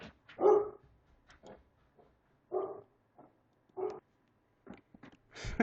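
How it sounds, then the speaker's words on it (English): The family dog barks wildly in a home office, a series of loud, sharp barks in irregular bursts with short pauses and whimpering yips between them, close to the microphone. "the family dog going berserk here in the office"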